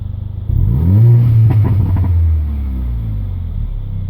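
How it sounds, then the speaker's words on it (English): A 2015/2016 Mercedes-AMG A45 with a performance exhaust revs up hard, a deep, throaty exhaust roar that rises, holds, then settles to a steady rumble, loud and close. "Huge difference straight away with that performance exhaust."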